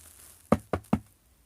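A door knocked three times in an even rhythm, crisp and fairly close, over a faint background hiss with no voices.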